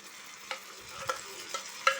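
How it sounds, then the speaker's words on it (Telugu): Curry leaves sizzle in hot tempering oil for Guntur-style gongura chutney while a spoon stirs the pan, giving a soft steady frying hiss broken by a few light scraping clicks. "చివరగా ఫ్రెష్‌గా ఉండే ఒక 2 రెమ్మల కరివేపాకు కూడా వేసి ఒకసారి ఇలా బాగా కలుపుకుంటే తాలింపు మంచి ఫ్లేవర్ వస్తుందండి"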